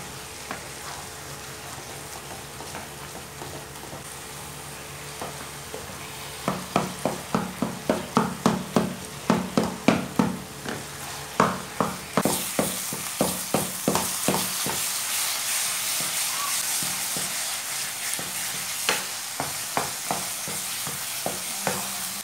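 Saag with spices, salt, chilli and garam masala being stirred and fried in a pan over high heat: a steady sizzle with repeated scraping strokes of a spoon, some fast and close together, others spaced out.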